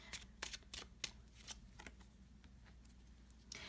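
Tarot cards being shuffled and pulled, a run of quick crisp riffling bursts up close, louder at first and then thinning into softer slides, with no talk.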